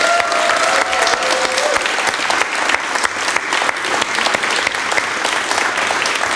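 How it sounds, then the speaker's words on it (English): A live concert audience gives sustained, dense applause that stays loud and steady from start to finish, with scattered cheers inside it. "Can we give a huge round of applause for them"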